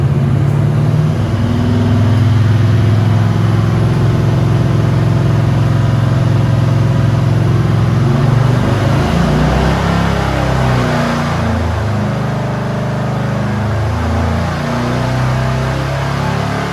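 A carbureted LT1 383 V8 with a dual plane manifold roars on a dyno during a steady RPM sweep from 3,500 to 6,500, a loud continuous engine howl that climbs in pitch before easing off.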